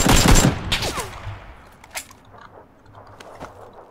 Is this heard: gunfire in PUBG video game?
yes